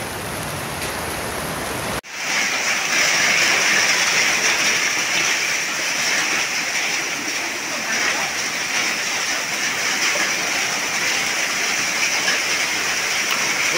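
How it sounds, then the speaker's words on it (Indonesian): Hail pours down steadily in Indonesia, a dense, continuous hiss and patter that swells after a short break and keeps going at full strength, with no talk over it. "Hujan es, Pak, di Palidia hujan es."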